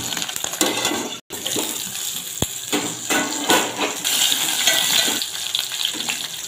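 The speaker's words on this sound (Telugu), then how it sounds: "పచ్చిమిర్చి మంచిగా బ్రౌన్ కలర్ వచ్చే వరకు వేయించాలి. మూత పెట్టుకొని వేయించుకోండి" Green chillies frying in a covered pan, a steady close hiss and crackle that runs throughout with a few brief pops, with no talking.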